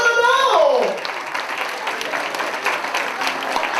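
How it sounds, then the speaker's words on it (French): Applause from the crowd at a VIP evening at a shopping centre, a voice and tonal sound fading at the start before steady, fairly loud clapping fills the rest. "Et on applaudit d'abord le"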